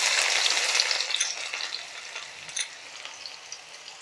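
Cumin, mustard seeds and finely chopped onion hitting hot oil, a loud crackling sizzle at first that gradually softens into a steadier, quieter fry with scattered pops, close up.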